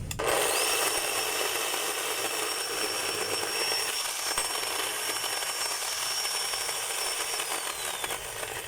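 A loud, continuous mechanical whine and rattle of a DeWalt D25810 demolition hammer runs steadily from start to finish, close and unbroken.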